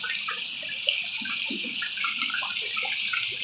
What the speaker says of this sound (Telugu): మాకైతే వర్షం చూడండి ఎంత పెద్దదిగా పడుతుందో